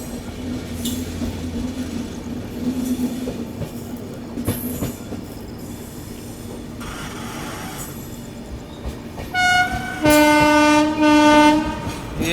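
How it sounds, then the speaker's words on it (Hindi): WAP-7 electric locomotive passing near Manak Nagar railway station near Lucknow, with rumbling wheels and rail clatter building up, then a loud, near horn sounding in long blasts toward the end. "वो आ गया लोको वेब 7"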